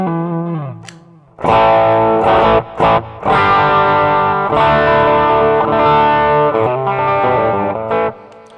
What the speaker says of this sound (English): When I press this, you're going to have your overdrive but no reverb.